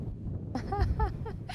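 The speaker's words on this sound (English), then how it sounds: "But for Nicole Eden, there's absolutely nothing negative to say about a windy day." Steady wind rumble buffets the microphone throughout, with a few faint tonal calls rising over it in the second half.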